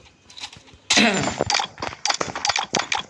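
A shooting video game fires off rapid gunshots, a loud broadband burst followed by quick irregular cracks and pops that continue in close succession.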